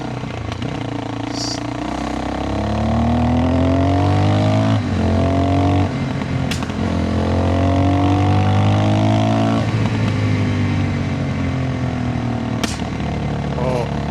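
A Yamaha WR400F supermoto engine bogs while riding, its loud close engine note climbing and sagging in repeated uneven surges under rushing wind noise.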